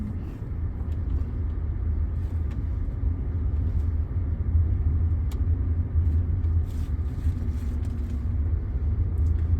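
A car on a road during a driving lesson in Thiruvalla, Kerala, its steady engine and tyre rumble filling the cabin at constant loudness, with no talk.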